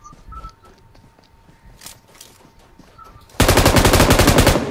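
In a video game, soft footsteps and faint sounds give way to a sudden loud burst of rapid automatic gunfire that keeps going to the end, fast shots in a tight, even rhythm. No one talks.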